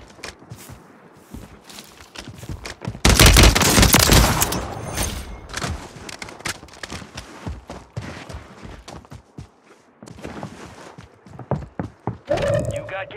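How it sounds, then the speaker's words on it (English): In Call of Duty Warzone 3, scattered sharp shots give way to a loud, dense burst of gunfire overhead, then more intermittent cracks and clatter, with muffled voices now and then. "Shots overhead!"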